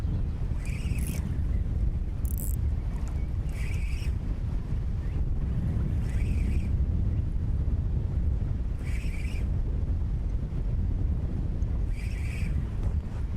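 Strong wind buffets the microphone at a lakeside fishing spot, a steady low roar with a few louder gusts spread through the stretch, no voices.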